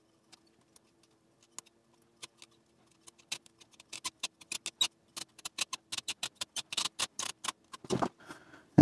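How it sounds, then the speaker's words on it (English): Thin masking tape goes onto a pottery piece in a quiet room, starting as sparse faint ticks and building into a dense run of close, sharp crackling taps and tape peeling sounds, ending in a louder rustle. "So let's try the thinner tape. I'll start it here down where it's not going to be glazed."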